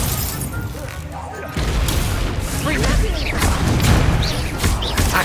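Spell effects from Hogwarts Legacy gameplay, dense crackling blasts and magical booms layered continuously and loudly throughout, with a voice shouting spell names over them.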